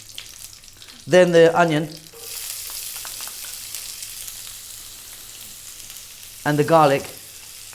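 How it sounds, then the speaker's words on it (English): Curry leaves, onion and garlic frying on high heat in a pan for a vegan mushroom potato curry, a steady broadband sizzle running through the middle of the clip, with a person speaking at the start and again near the end. "we're going to drop in our curry leaves, fresh curry leaves, which sometimes can be very noisy"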